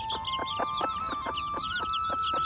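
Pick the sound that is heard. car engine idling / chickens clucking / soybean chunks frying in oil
chickens clucking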